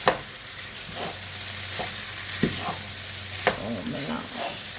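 Food mixture stirred in a hot pan for a Chinese-buffet style dish, soft frying sizzle under a low hum, with a few sharp scrapes and clinks of the utensil against the pan spread through.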